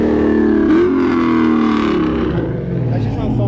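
A track car engine revs hard at Lancaster Speedway grudge night, a loud, close, deep roar that climbs and then eases in pitch over a few seconds, carried through a crowded outdoor setting.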